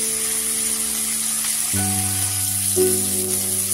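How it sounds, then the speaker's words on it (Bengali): Continuous sizzling of chicken frying in a pan on high flame, an even crackling hiss under soft held musical tones. "হাই ফ্লেমে বেশ লালচে করে আমরা চিকেনটা ভেজে নেব"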